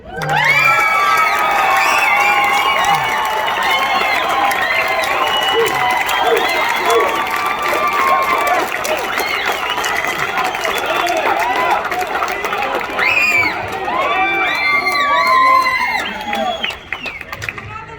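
Loud, sustained applause and cheering from a crowd at a Republican primary debate, with whoops and shouts riding over the clapping before it thins toward the end.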